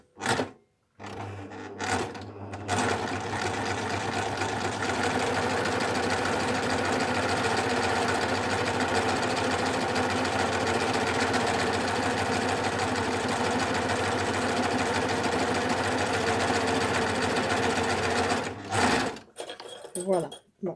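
A Baby Lock Ovation serger sewing a decorative flatlock to attach a zipper runs in one long, loud, continuous whirring stretch after a couple of short starts, then stops with a few clicks.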